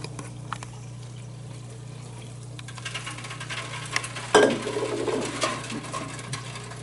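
Water poured from above like rain onto soil in garden containers, starting as a faint trickle and swelling into a steady splashing patter, over a constant low hum.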